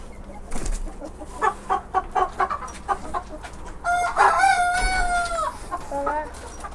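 Chickens cluck in quick repeated bursts close by, with a longer rooster-like crow in the middle and scattered voices in the background.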